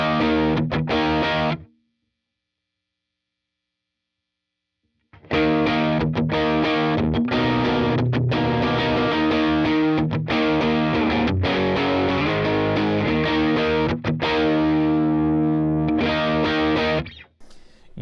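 High-gain electric guitar through a 5150/5153-style amp simulator, heavily distorted riffing with palm-muted chugs and chords, a short riff, a pause of about three seconds, then a long continuous loud passage.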